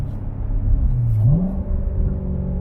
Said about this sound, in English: Oh, those downshifts sound so good.